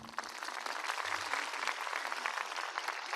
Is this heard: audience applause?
yes